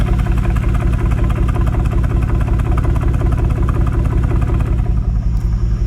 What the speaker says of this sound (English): this is like old school cross-plane V8 grumble, just idling.